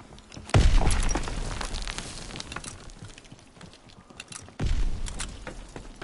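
A grenade bursts in a shooter video game with a sudden loud blast, then a scattering rumble and debris that fades, followed by a second sharp detonation near the end.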